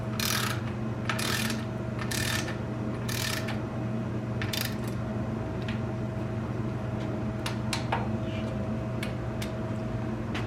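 Ratchet driving down the bolts on an LS engine oil pan, with bursts of rapid clicking in the first half and scattered short clicks later, heard close over a steady low hum.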